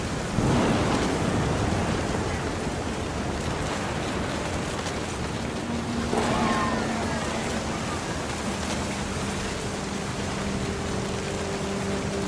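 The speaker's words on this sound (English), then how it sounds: "The thunder sounded much too close and full of angry power." Thunder rolls loud and close through a steady wash of heavy rain and wind, with a deep rumbling swell building midway and lingering under the continuous storm noise.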